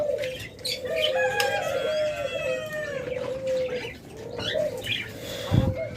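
Doves kept for sale as a laying pair with eggs and chicks, cooing in soft repeated calls amid a busy chorus of other birds, with a low steady hum underneath and a brief thump near the end.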